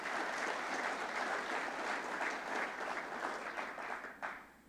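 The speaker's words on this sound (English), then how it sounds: "A hand of applause for the people" Steady audience applause at the opening speech of the Green Aruba 2015 conference, a dense, even roar of clapping that holds for several seconds, then tapers slightly near the end.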